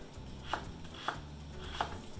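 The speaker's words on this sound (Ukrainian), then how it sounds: "а також нарізаю цибульку" Three steady knife chops through an onion on a cutting board, evenly spaced and moderately loud, over a low background hum.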